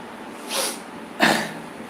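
A person gives two quick, breathy sneeze-like bursts about half a second apart, the second sharper and louder, close to the microphone.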